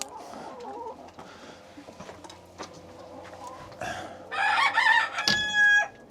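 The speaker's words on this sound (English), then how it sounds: "Chicken." Chickens on a farm during an egg collection, with a rooster crowing loudly near the end over scattered clucking from the hens close by.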